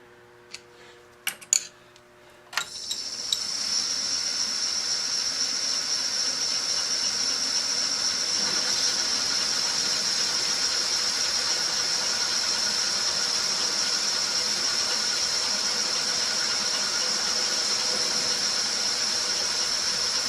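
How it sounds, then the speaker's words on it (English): Boring bar cutting a 1 1/4 inch bore in metal on a milling machine, heard as a steady, fairly loud high-pitched hiss and whine that sets in after a few brief clicks and knocks and then runs on unbroken. "now I've got the boring bar set up. I do have a 1 1/4 inch bit, but I want this to be a good fit, so we're gonna bore it"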